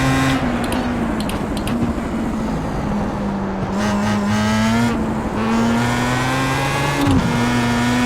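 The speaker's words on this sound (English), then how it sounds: "Faster car approaching." Race car engines in iRacing at the 2008 Silverstone circuit, a steady loud drone with shifting pitch as a faster car closes in and passes, with a brief squeal of tires near the end.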